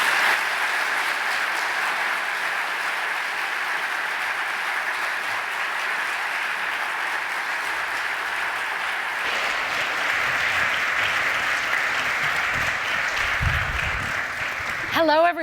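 An audience at a political panel event applauds to welcome the speakers, a sustained, even wash of clapping that continues throughout and grows slightly busier toward the end.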